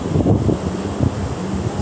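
Strong wind at a beach buffets the microphone with steady, loud low rumbling and gusty roar, continuous throughout with no voices.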